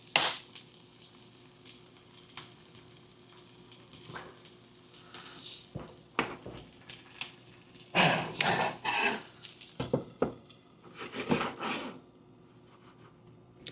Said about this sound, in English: So we're going to fry them up.